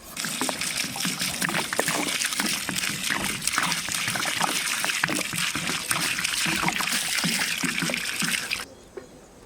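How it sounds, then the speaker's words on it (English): Water pours steadily into a pot of boiling mutton seasoned with black pepper, a continuous splashing, trickling stream heard close and alone for about nine seconds before it abruptly stops. "To boil perfectly this meat, we are going to add some water."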